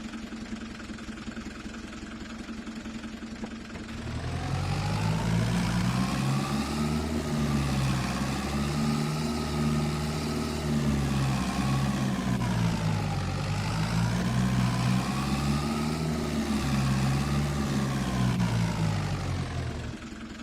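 Fiat 670 tractor engine in Farming Simulator 25, starting up after a quiet lead-in and then running at a steady, loud rumble with small revving swells, alone with no talk.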